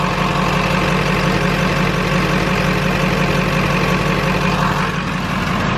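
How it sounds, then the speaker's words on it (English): Duramax diesel truck engine idling steadily up close, a dense low rumble with a constant fine ticking texture suggesting injector tick, running alone without talk. "It does sound like I have injector tick though"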